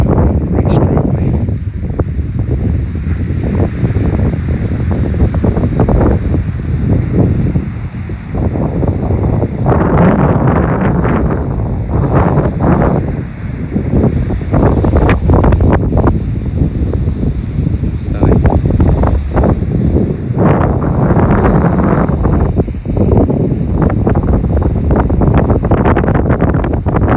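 Strong wind buffets the microphone on a Barbados beach with surf rolling in, a loud continuous roar with gusting surges throughout.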